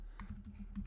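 Computer keyboard typing while a message is entered during an encryption example, a quick run of soft, close keystrokes with an even tapping rhythm and no talk.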